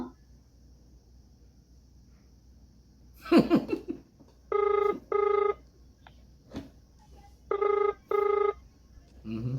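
A telephone rings in two pairs of bursts, the first pair starting near the middle and the second near the end, loud and close. Brief sounds come before the rings and between the pairs.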